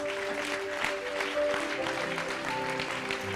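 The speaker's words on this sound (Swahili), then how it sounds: "Tupigie Bwana makofi." A church congregation at a youth seminar claps for the Lord, a steady patter of hands over a faint sustained tonal hum, moderately distant and fairly quiet.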